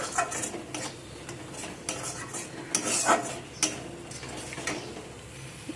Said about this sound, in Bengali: দিয়ে সব কিছুকে আবারও আমি ভালো করে নাড়াচাড়া করে মিশিয়ে নেব।